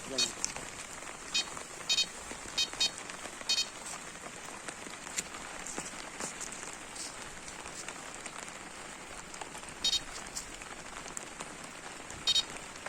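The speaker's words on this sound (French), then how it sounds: "Sous la pluie." Rain patters steadily on a surface outdoors during a fishing outing, a continuous soft hiss with scattered sharper drop hits, and quiet voices in the background.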